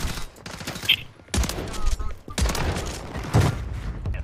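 Rapid bursts of gunfire from a no-aim-assist kill race in a shooter video game, repeated volleys through the clip with a loud burst near the end, while players talk over it.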